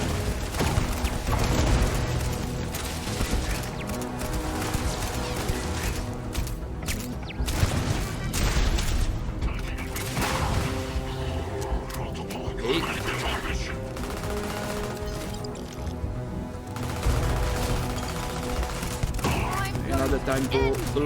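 Rapid gunfire and turret shots from a Starfield firefight rattle almost without pause, dense bursts layered over a busy, loud mix with game music or effects underneath.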